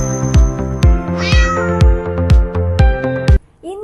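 A cat meows repeatedly at close range, a loud series of regular, evenly spaced calls followed by a final rising meow, with no talking.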